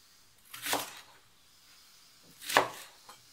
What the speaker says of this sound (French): Je vais couper mes oignons. On va les couper en quartiers.